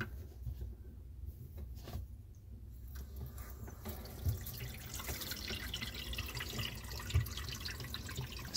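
Water runs through the plumbing filter of a converted camper van, a faint, steady hiss and trickle with a few soft drips and clunks, and no talking.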